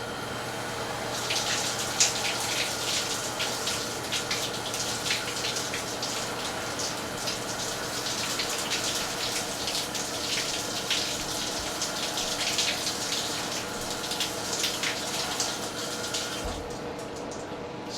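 Water runs steadily into a baseball glove held with fingers upright, a continuous close splashing gush that goes on unbroken and alone until it cuts off near the end.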